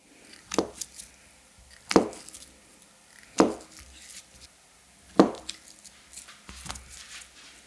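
A WynterForge Wolfram Ko Bunka knife slicing through tofu on a cutting board, giving five soft, evenly spaced chops that land with a damp, squishy tap close up.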